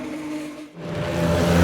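Vintage cars running on a race track at a motorcar festival, a steady engine drone that dips briefly then builds into a rising rev as a car approaches, loud and close.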